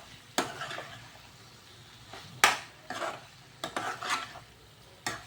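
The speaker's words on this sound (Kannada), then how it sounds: "ತುಪ್ಪ ಒಂದು 2 ಸ್ಪೂನ್ ಹಾಕಿ ನೀಟಾಗಿ ಮಿಕ್ಸ್ ಮಾಡ್ಕೊತೀನಿ" A spoon stirs mushroom capsicum masala with about two spoons of ghee in a pan, giving a series of sharp scraping strokes over a soft sizzle, close and fairly quiet, with no voices.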